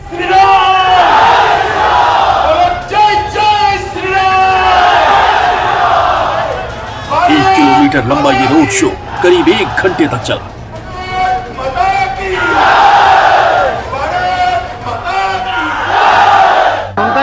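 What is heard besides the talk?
crowd chanting Jai Shri Ram slogans at Amit Shah road show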